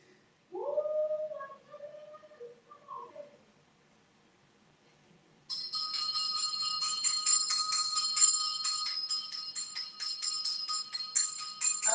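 A handbell rings continuously for several seconds, bright and insistent, starting after a short stretch of a high vocal whoop and a pause.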